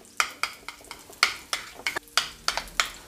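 A spoon stirs garlic into yogurt in a bowl with a series of about ten sharp, evenly spaced clinks and scrapes against the bowl. The sound is close and clear, with no talking.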